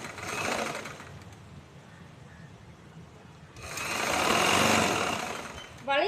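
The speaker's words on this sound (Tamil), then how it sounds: "துணியை சேர்த்து வைக்கிறோம். மெதுவாக தான் தைக்கணும்." Sewing machine stitching chudithar fabric with a canvas layer, running in two bursts of steady mechanical whirring, near and moderately loud, separated by a quieter pause and ending with a brief click.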